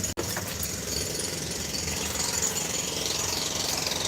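A jackhammer pounds steadily and loudly close by, a dense continuous rattle with no pauses and no voices.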